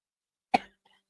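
A single sharp cough bursts out close to the mic, trailing off quickly into near silence with a faint second breath after.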